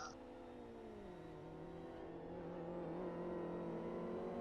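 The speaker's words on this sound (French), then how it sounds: "J'ai l'impression que le son des voitures est un peu bas" Race cars in a GT300 racing video game hum faintly in the background, a soft steady engine whine slowly rising in pitch, with no talking over it.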